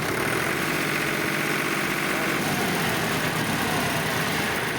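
An old Powertrac 439 tractor idles nearby, its engine holding a steady, even chugging rumble from start to finish with no voices over it.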